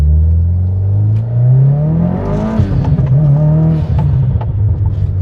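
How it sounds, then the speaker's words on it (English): A turbocharged 2012 Subaru WRX STI engine revs up and climbs steadily in pitch as it accelerates, loud and close, with a whooshing turbo whir layered over the rising drone. "let's see if you can get a little listen here on the turbo again."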